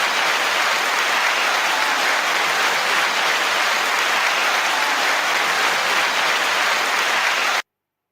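Dense, continuous applause from a crowd cheering a round's winner, loud and even like heavy rain, holding steady for about seven and a half seconds before cutting off abruptly.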